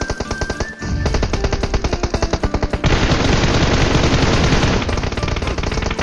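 Rapid automatic gunfire in the video game PUBG rattles in loud, fast bursts, first clearly spaced rounds and then a dense continuous stream of shots, close and dominant with no talk over it.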